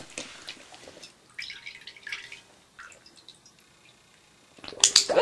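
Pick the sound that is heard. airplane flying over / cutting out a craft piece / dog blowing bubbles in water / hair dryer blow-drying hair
dog blowing bubbles in water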